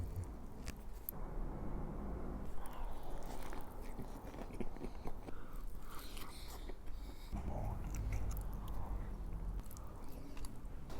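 Biting into and chewing a cheese stick at close range, soft wet squishy chews and small crunches repeating steadily over a quiet low background for several seconds.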